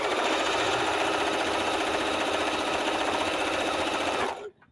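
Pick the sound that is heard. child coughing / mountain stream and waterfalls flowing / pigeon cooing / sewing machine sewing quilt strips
sewing machine sewing quilt strips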